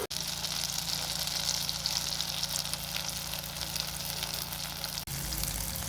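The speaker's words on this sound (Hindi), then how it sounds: "अब इनको भी मैंने दूसरी तरफ से भी फ्राई किया है।" Soybean kababs frying in a pan give a steady, fairly quiet sizzle over a low hum, broken by a brief gap near the end before the crackle resumes.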